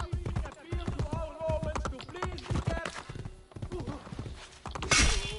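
Horses gallop in Assassin's Creed Brotherhood with rapid, close hoofbeats and a neigh. Someone talks over the galloping throughout, and there is a brief harsh burst near the end.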